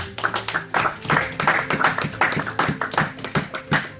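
A church congregation claps together in a steady, rhythmic run of sharp hand claps, many hands close and loud with no talk over it.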